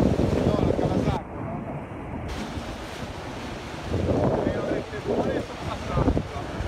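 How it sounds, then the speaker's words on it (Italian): Sea waves and wind on the coast at Genoa, with surges of surf breaking and wind buffeting the microphone, while people talk nearby. "No, è il mare, l'onda e il vento."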